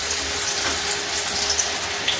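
A puri frying in hot ghee, giving a dense, even hiss of bubbling fat that holds steady for a couple of seconds.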